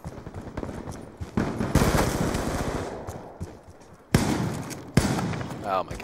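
Loud, close bursts of automatic gunfire in Black Ops 2 Gun Game, rapid rattling volleys with sharp separate shots between them, heard alongside someone talking.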